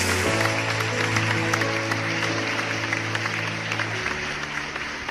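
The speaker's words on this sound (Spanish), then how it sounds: "Aplaude al Dios que vive" A church congregation applauds God during a Christmas worship service, a dense, steady wash of many hands clapping together that carries on for several seconds over a sustained low musical hum.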